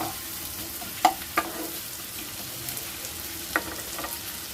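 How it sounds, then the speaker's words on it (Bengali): Chopped onions soften in mustard oil for potato paratha filling, a soft steady sizzle broken by a few sharp clacks of the stirring spoon. "দিয়ে ভালো করে নেড়ে চেড়ে হালকা করে নরম করে নেব পেঁয়াজটাকে।"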